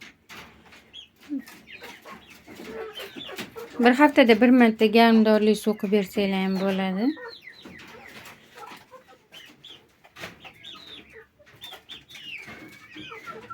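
Chicks and chickens cluck in a poultry shed, with a denser burst of calls in the middle of the stretch, mostly beneath a person talking throughout.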